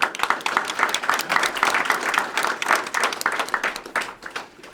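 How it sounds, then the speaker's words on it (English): Audience at a Hastings Chamber of Commerce community coffee event applauds steadily, a dense crowd of clapping hands that stays fairly loud throughout with no talking over it. "let's give them a round of applause"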